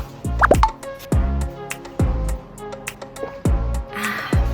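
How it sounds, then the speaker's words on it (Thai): Water plops and drips into a drink in a series of distinct, close, hollow splashes spaced irregularly, with a faint fizzing near the end. "ใส่น้ำลงไปค่ะทีเดียว"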